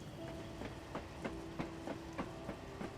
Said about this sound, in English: a freight train rumbled slowly through, tooting a single horn at him